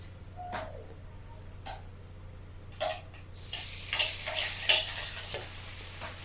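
Onions stirred and frying in a pan for pinakbet, quiet scraping clicks at first, then a louder steady sizzle from about halfway through with sharp stirring strokes over it, close by.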